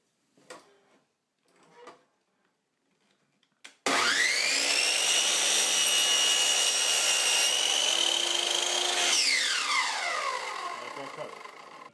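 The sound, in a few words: saw cutting crown molding on a jig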